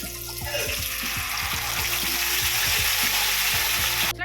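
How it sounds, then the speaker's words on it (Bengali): Nigella seeds and bay leaf sizzling steadily in hot oil for a Bengali bata fish mustard curry, a loud dense crackle with soft regular scraping and clicks beneath, no voices. "তেলটা গরম হয়ে গেছে, এবার আমি দিয়ে দেবো কালো জিরে, তেজপাতা।"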